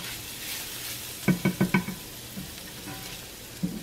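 Garlic browning in a pan with cooking oil, a quiet sizzle underneath a quick run of four stirring or scraping knocks, followed by a few fainter clinks and one last tap.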